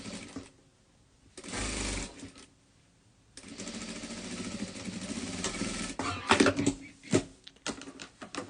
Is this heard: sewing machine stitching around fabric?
yes